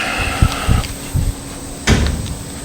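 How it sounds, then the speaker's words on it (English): A Chevy C10 truck door is worked open and shut, giving several close clunks and a sharper latch knock over a faint background hum. "that door won't stay shut"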